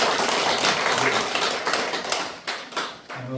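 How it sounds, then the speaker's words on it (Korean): A church congregation claps in applause at a baptism during a Sunday service, a loud dense crackle of many hands that thins and fades toward the end. "여러분 박수로 축하해 주시기 바랍니다."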